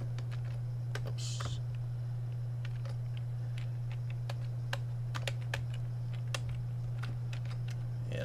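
Keys on a Commodore computer keyboard clack in irregular bursts of single presses, close and fairly faint, over a steady low electrical hum.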